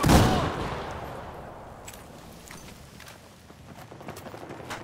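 Rapid gunfire from a Bulldog rifle in the shooter game Battlefield 4 opens with a loud burst, then fades into a sparser patter of distant shots and crackles, with no talk.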